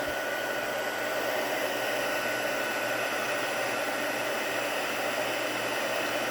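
A heat tool for melting embossing powder blows hot air in a steady, loud, close whoosh, like a hair dryer, running continuously without a break and with no talking.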